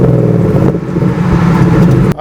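1969 Mustang Mach 1 restomod with a swapped Coyote 5.0 V8 pulling away, a loud, deep burbling engine note close by that cuts off abruptly near the end.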